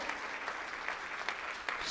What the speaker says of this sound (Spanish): Fuerte el aplauso a la palabra de nuestro Señor Jesucristo.